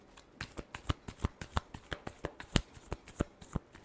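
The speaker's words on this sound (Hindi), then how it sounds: "last shuffle" A tarot deck is shuffled by hand in a rapid, even series of crisp riffling slaps and flicks, close and fairly quiet, with no talking.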